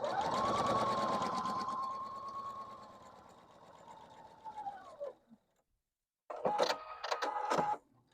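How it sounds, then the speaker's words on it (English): A sewing machine stitches a quilt block in a steady, humming run for about five seconds, then stops and starts again in a shorter, choppier burst of stitching near the end. "I'm going to put this one in and just sew it right after the other one"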